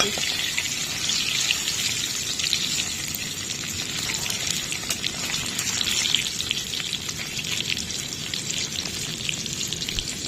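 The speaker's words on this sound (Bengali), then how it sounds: "চিংড়িগুলো ভালো করে ভেজে নিচ্ছি" Prawns fry in hot oil with a dense, continuous crackling sizzle that stays close and even for the whole stretch.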